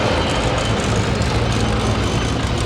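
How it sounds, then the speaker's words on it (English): Rally cars come through a Barley Saturday street parade, led by a Toyota, with a loud, dense engine roar filling the whole moment and no voices over it. "Look at these rally cars coming through now. First one, a Toyota."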